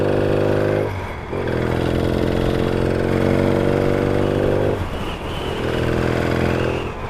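A Yamaha XS650 chopper motorcycle engine runs steadily at close range with a low, throbbing idle, a brief dip near one second and another near five, and no talk over it.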